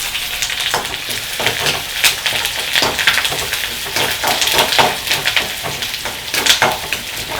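Shallots and curry leaves fry in hot coconut oil for a Kerala fish curry tempering: a loud, close, continuous sizzle full of crackling pops and spatters, with no voices.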